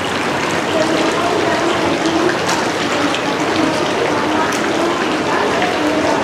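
Water runs steadily from a spring inside a cave, a continuous broadband rush and splash that holds level throughout, with no talk over it.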